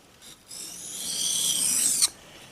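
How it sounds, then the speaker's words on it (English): A steel knife edge scrapes across an Arkansas stone in one close, steady, raspy stroke lasting about a second and a half, ending in a quick tick, with a faint scrape just before. "We're going to do our standard sharpening, running it through 3 grades of Arkansas stone"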